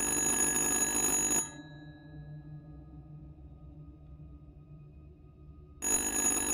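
A telephone rings in the video game Little Hope, a loud electronic bell tone that cuts off abruptly, leaving quiet low ambience before the ringing bursts back in near the end.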